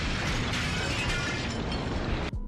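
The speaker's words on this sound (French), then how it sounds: "mais dans une explosion, Morton n'est plus." A film explosion roars as a dense, loud blast of noise with crackling debris, holding for two seconds before cutting off sharply.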